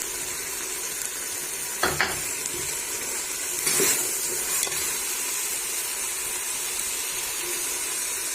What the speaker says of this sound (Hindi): तकरीबन 10 मिनट हम इसको भून लेंगे।